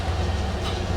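Steady low rumble and rattle heard from inside a moving train car, continuous and close with no voices.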